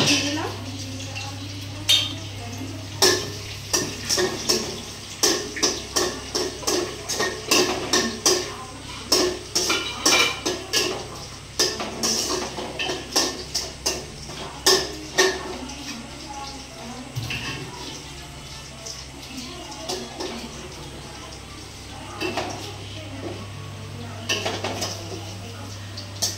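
Cashews and raisins fry in a pan for pulao while a metal spoon scrapes and clatters repeatedly against it, with a steady low hum underneath and occasional speech.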